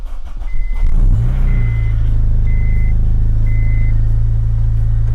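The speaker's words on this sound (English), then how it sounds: "I'm going to start the car." An Acura RSX Type R (DC5) engine cranks and catches after the battery is reconnected, settling into a steady low idle, while a high electronic chime beeps four times at even intervals.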